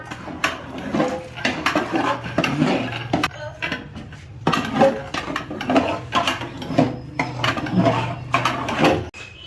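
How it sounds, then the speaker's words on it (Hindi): A spoon stirs ingredients together in a metal cooking pot, giving a steady run of close, repeated scraping and clinking against the pot's sides with short pauses between strokes. "अब हम इसको अच्छे तरीके से मिक्स करेंगे।"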